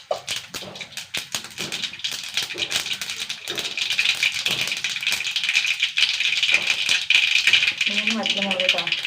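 Mustard seeds crackle and pop in hot oil for a village-style curry, a dense rattling spatter that runs throughout the clip and builds slightly toward the end, with a voice speaking over it.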